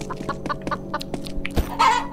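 A chicken in a Roblox horror game clucks in a quick series of short, close clucks, ending in a slightly longer, louder squawk.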